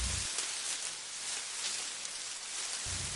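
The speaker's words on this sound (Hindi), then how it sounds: "तेज हवा बहने लगी और तेज तूफानी बारिश शुरू हो गई।" Heavy stormy rain pouring steadily, a dense continuous hiss of downpour with no voices, brief low rumbles at the start and end.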